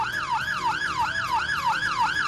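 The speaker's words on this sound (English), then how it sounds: "it's got the lights and the noise that it makes from the sirens" A loud fire engine siren wailing, rising and falling in fast regular sweeps, alone and close.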